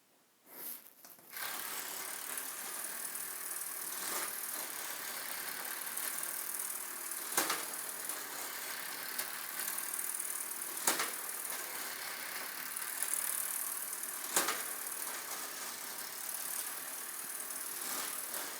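A motorized LEGO Creator pirate roller coaster driven by an M motor and battery box clatters along in a continuous plastic rattle, with sharp periodic clicks every few seconds as cars pass over the track.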